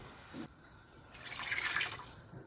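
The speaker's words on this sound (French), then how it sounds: "On verse de l'eau." Water is poured into a cooking pot of stuffed courgettes with minced meat and tomato sauce, a close splashing stream that swells into a bubbling gush before tapering off, alone without talk.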